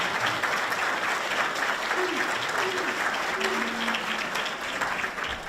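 Continuous, even applause fills a banquet room at a hall of fame dinner in Elgin, Illinois, honoring the caterers, with faint voices murmuring beneath the clapping.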